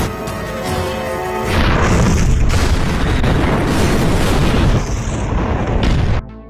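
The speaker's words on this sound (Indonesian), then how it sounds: "Mobil tersebut akhirnya meledak" A car explosion booms and roars loudly, sustaining a dense crashing blast for several seconds before cutting off abruptly.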